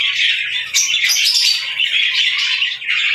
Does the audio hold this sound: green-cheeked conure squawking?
yes